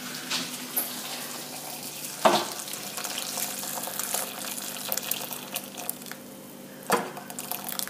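Boiling water is poured over brown seaweed, making a continuous soft splashing hiss with a few sharper clunks and splashes scattered through it.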